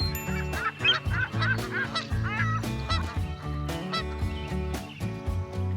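Large flock of common cranes at Lake Hornborgasjön, Sweden, during the spring crane gathering, calling in dense overlapping honks and trumpeting cries, loud and continuous with many birds near and far.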